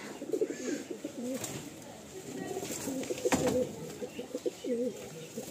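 A Kalanka racing pigeon coos close by in repeated low, rolling phrases, with a pause and a sharp knock in the middle, then more cooing and soft shuffling.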